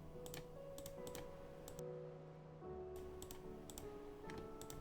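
Quiet, rapid computer keyboard typing comes in short clusters of clicks over a faint steady hum, pausing briefly midway before resuming.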